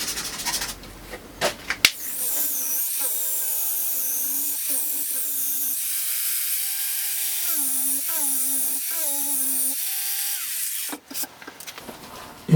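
An angle grinder multitool running at speed setting 5, a high whining motor with pitch that dips and recovers as it bites into the work, loud and steady for about nine seconds.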